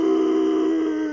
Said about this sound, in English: They're kind of like howls